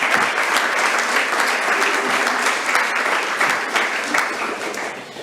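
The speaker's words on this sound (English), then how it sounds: "Would you give these students a big round of applause for the area level contest?" An audience at a Waxahachie ISD school board meeting breaks into applause for students, a loud, dense and sustained clapping that holds steady and tapers slightly at the end.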